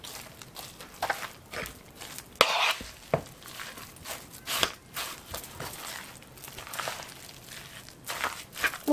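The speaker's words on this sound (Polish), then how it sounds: "I teraz to wszystko już mieszam." Minced meat filling with mixed pepper for pierogi is stirred by hand in a bowl, giving soft, irregular squelching and scraping sounds close up, with a few sharper knocks against the bowl.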